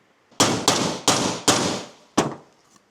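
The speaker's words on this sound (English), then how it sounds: "I'm going to get my rubber hammer and just rubber hammer that down a bit" Five sharp, heavy blows land in quick succession, close and loud, each a dull smacking strike with a short decay, a rubber mallet pounding something down while fitting a glove box door.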